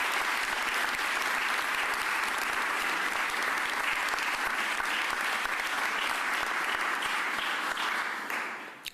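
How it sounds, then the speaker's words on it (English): Sustained applause fills a press conference hall, a dense wash of clapping from a crowd held steady and loud for about eight seconds before tapering off at the end. "Let's give them a round of applause."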